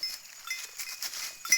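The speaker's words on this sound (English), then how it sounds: "you can see that the goats are enjoying" Goats bleat faintly now and then while grazing on an old maize field in Kenya, with soft outdoor ambience between calls.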